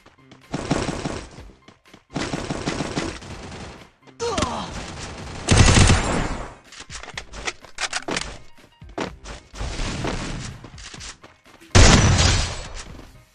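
Loud M1887 shotgun blasts in the video game Garena Free Fire come in several separate bursts with short pauses between them, mixed with other in-game impacts and clatter.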